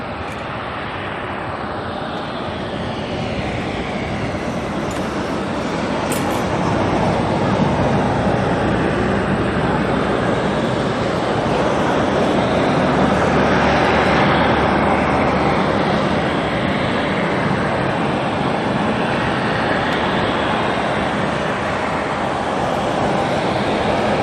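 An Airbus A321neo airliner on the runway at Auckland Airport, bound for Dunedin, produces a broad, steady jet roar that swells and then holds, heard from a distance for over twenty seconds.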